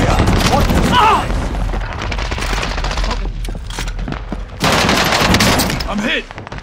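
Loud, close automatic gunfire in the video game Call of Duty on Rebirth Island, rapid bursts and booming shots in dense volleys with short pauses, a voice speaking intermittently over the shooting.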